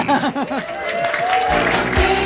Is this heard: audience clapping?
yes